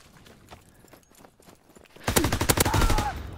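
Sniper and rifle fire in the video game Call of Duty WWII, soft scattered pops at first, then a loud close burst of rapid overlapping shots over the last second and a half.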